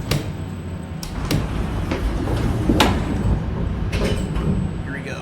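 Elevator doors in the ET Testing elevator game slide and thump several times over a steady low ride hum, with a thin high tone running through, close and fairly loud, no voices.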